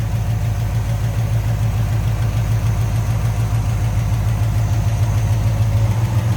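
A 1964 Chevrolet Chevelle Malibu convertible's small block 350 with a Quadrajet carburetor on an Edelbrock intake idles up close, a loud, even, pulsing rumble with no talk.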